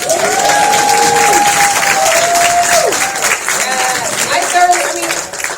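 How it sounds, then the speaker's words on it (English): Audience applause with some cheering at a post-screening Q&A for the Hallmark Mahogany film A Nashville Legacy, loud and steady for several seconds while a voice carries sustained sung or drawn-out tones above it, tapering near the end. "Round of applause."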